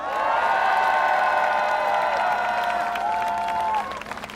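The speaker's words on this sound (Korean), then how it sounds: "자, 박수 한번 주십시오" A large crowd at an outdoor political campaign rally in Seoul's Seongdong and Dongdaemun area applauds and cheers loudly, a thick sustained roar of clapping and shouts that begins to fade near the end.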